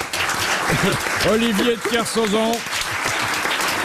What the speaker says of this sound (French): il applaudit version italienne